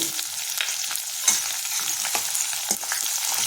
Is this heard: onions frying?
yes